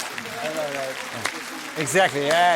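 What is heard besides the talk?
audience applause at stand-up comedy show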